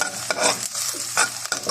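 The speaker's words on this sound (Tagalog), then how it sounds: "Papulain po lang natin ng ating sibuyas, guys." Onions sauté in a pan with a bright continuous sizzle, broken by several loud scraping stirs of a spatula at close range.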